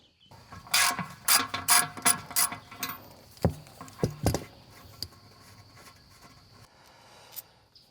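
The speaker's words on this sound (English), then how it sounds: "we got to take the valve stem out first" A tire valve stem is taken out with a series of sharp metallic clicks and ratcheting rattles, bunched quickly at first and then thinning to a few scattered taps, close and fairly quiet.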